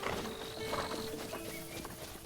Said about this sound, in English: now I can just like summon my horse